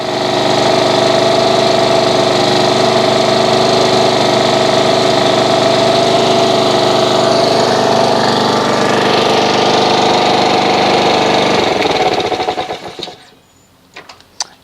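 Honda HRX217 lawn mower engine running at a steady close, loud drone with a fixed pitch that holds for about twelve seconds, then shuts off and dies away to near silence.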